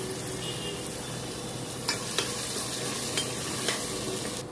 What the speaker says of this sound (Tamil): வெங்காயம் கோல்டன் கலராக அவன் நல்லா செவக்கணும்.